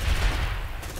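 Grenade blast and rapid gunfire in the squad tactics game Aliens: Dark Descent, a loud, dense rumble with crackling shots packed into a single second and no gaps.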